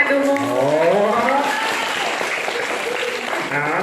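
An audience claps through a Balinese bondres comedy show, with steady applause filling the room while performers' voices carry over the top.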